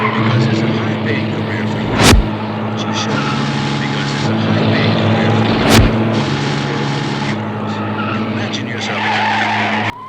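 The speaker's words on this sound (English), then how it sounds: "one of the stupidest car chases I've seen in quite some time" Tyres skid and engines roar during a car chase in the 1981 film Looker, with two sharp bursts standing out over a loud, continuous rumble and a steady background drone.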